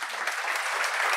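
Dense, steady applause from an audience at a yoga and naturopathy gathering, a continuous wash of many hands clapping at moderate volume with no break.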